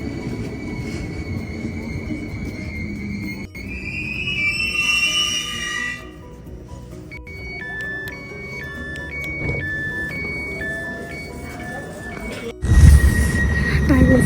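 Riding a train in Germany: a rumbling carriage with wheel noise and squealing, electronic door chime tones, then a loud surge of rushing noise near the end.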